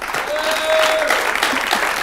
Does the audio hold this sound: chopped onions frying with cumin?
no